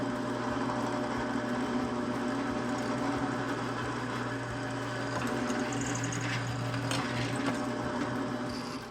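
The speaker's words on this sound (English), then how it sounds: "I need to drill a couple of 1/4-inch holes in here for the bolts" A small bit drills quarter-inch bolt holes through metal for a GC2300 rear camera mount, a steady whirring motor hum that holds evenly, fairly quiet, with no talk.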